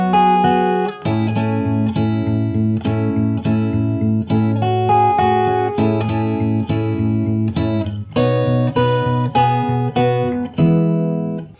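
Fingerstyle acoustic guitar plays the chorus of a song at a slow pace, a steady run of plucked notes and ringing chords, close and clear with no voice.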